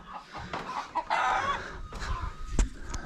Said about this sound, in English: And lots of chickens everywhere,